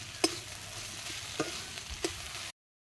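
Slices of ash gourd fry in a pan with a soft sizzle. Three sharp utensil clicks stand out against it before the sound cuts off abruptly, and no voices are heard.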